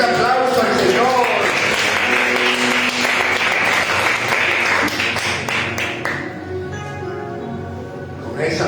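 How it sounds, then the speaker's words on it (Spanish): A church congregation applauds during a worship service, dense clapping filling the space for several seconds before thinning out, with music and voices mixed underneath. "Denle un fuerte aplauso al Señor."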